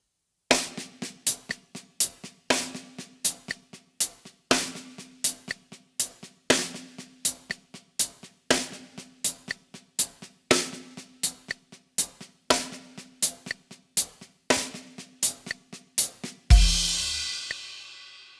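A linear drum groove at 60 BPM moves between hi-hat and snare, one stroke at a time, with sharp close hits in a repeating eight-note pattern. Snare accents recur regularly, and a louder crash-like wash rings out at the end.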